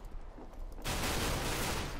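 Pistol gunfire in the video game CS:GO: a dense, loud burst of shots that starts abruptly after a quieter lead-in and continues as a sustained roar to the end.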